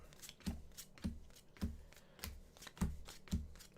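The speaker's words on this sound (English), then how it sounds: "Shuffling is my favorite part of the day." Magic: The Gathering Commander deck being riffle-shuffled by hand, a close run of quick papery card bursts repeating roughly every half second, with soft thumps as the stack is squared between riffles.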